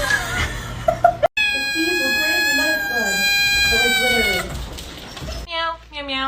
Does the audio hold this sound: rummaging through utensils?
no